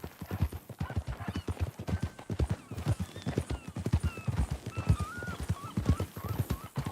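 In Red Dead Redemption 2, steady clip-clop of horse hooves on hard ground, close and rhythmic, with a few high whinnying calls rising faintly in the background.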